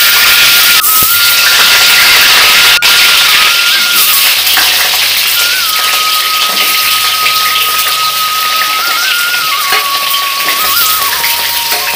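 Potato pieces hiss and sizzle steadily in hot oil in a pan during home cooking in Bengal, a dense, continuous frying crackle that stays loud and close throughout, with faint clinks and a high whine in the background.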